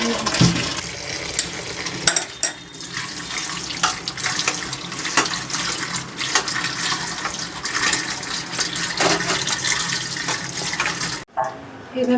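Water from a tap poured over taro stolons to rinse them in a kitchen, a steady close splashing and gushing that runs for about eleven seconds before briefly cutting off, with a voice speaking faintly underneath.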